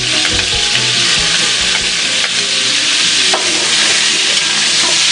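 Onions frying in a pot for chicken curry, a loud, steady, close sizzle with occasional stirring scrapes and bumps.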